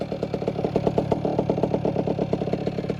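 A moped engine after an ignition timing adjustment, with an MVT ignition, turbo setting carburettor and aftermarket exhaust, running at a steady fast idle with an even, rapid putter and light clatter, close and continuous.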